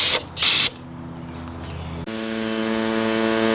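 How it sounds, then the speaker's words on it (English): A can of Super Tech brake cleaner gives two short hissing bursts of spray near a BMW 335i, followed by a steady mechanical hum that steps up partway through. "Grab our cheap ass brake cleaner"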